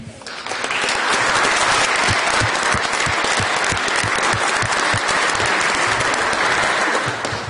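Sustained applause fills the Senate chamber to welcome a senator's family, a loud, even wash of many hands clapping together that stays steady for several seconds with no speech over it.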